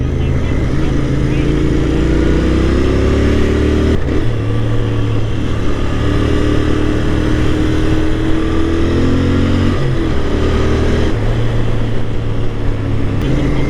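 A 2024 Royal Enfield Interceptor 650 motorcycle rides along a rough road, its steady engine drone rising and falling in pitch with gear changes, loud and close throughout, with a voice talking over it.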